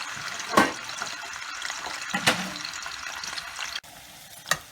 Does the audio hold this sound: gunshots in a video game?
no